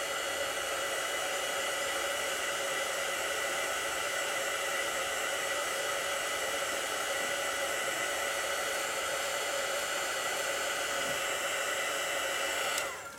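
A hair dryer blows a steady, close whooshing drone over a painting of a moonlit landscape, running unbroken for the whole stretch before shutting off at the end.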